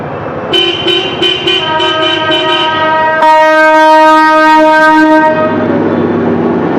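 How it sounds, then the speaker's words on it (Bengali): A Darjeeling toy train rattles past with rhythmic clacking, then sounds a long, loud, steady horn blast before fading. "টয় ট্রেন চলে গেল"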